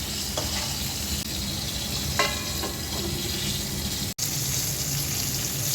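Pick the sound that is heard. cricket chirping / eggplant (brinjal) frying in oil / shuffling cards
eggplant (brinjal) frying in oil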